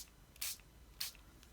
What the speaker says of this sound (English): I'm just going to put my spritzer directly above and spray straight onto